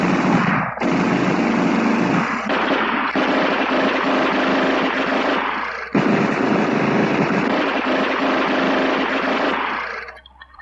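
A Tround .50 caliber gun system fires in a crew-served ground test, a loud, dense, sustained roar of rapid shots running almost continuously for about ten seconds with a brief break near the start and middle, no voices.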